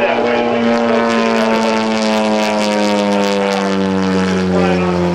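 A loud aerobatic propeller airplane roars steadily through a display at an airshow, its engine drone holding a strong steady pitch with a slight rising and falling sweep as it passes close overhead.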